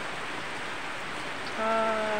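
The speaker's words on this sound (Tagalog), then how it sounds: "mas malakas yung bayo ng hangin at ulan guys" Steady heavy typhoon rain and wind roar in a dense, even wash of noise, with a faint tonal hum creeping in toward the end.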